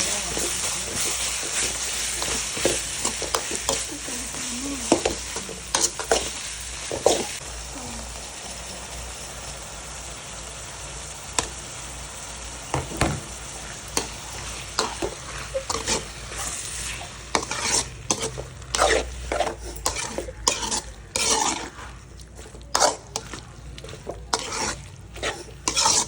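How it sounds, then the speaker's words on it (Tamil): Ginger garlic paste sautéing in a pan for dum biryani, a constant sizzle under frequent scraping and clinking stirs of a utensil against the pan, busier toward the end, with no speech. "நல்லா வதங்கி வச்சுருவாங்க. இஞ்சி பூண்டு பேஸ்ட்"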